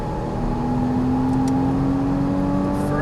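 Porsche Cayman S (2014) engine accelerating on a racetrack, a steady loud engine drone rising in pitch under throttle, close and continuous with no talk.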